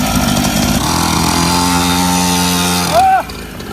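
A new motorcycle engine starts and revs loudly and steadily close by, a rough buzzing drone that rises in pitch near the end before dropping away.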